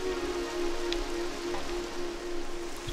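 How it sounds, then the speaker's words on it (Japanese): Rain falling in The Legend of Zelda: Twilight Princess, a steady, even patter on surfaces under a constant low hum, with a few faint droplet ticks and no voices. "雨降ってきた"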